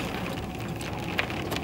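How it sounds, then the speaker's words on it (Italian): Hail patters outdoors in a dense, even hiss of small impacts, with a few sharper ticks standing out, and no voices. "È grandine, senti i rumori."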